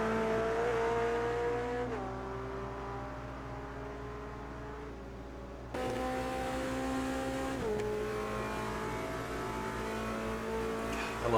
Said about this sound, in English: I love how race cars sound